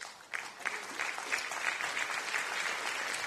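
An audience applauds after a talk on satellite benefits for citizens, a dense, steady patter of many hands clapping that swells quickly and holds at an even level.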